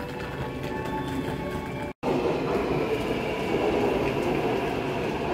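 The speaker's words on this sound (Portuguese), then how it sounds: "Metrô chegando do outro lado." Metro train in Taiwan rolling into a station, a steady broadband rumble of wheels and carriage noise with faint squeal, continuous and fairly loud apart from one brief dropout.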